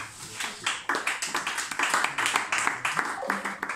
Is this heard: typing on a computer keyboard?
no